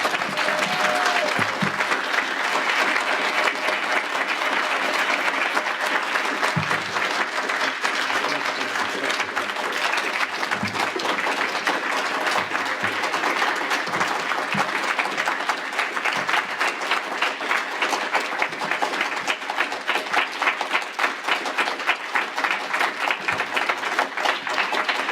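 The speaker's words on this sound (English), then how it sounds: "Please join me in applause to recognize our 24th DPSA recipient, David Berteau." An audience at an award ceremony applauds an award recipient, with sustained, dense clapping from a large crowd throughout that stays steady and loud without pause.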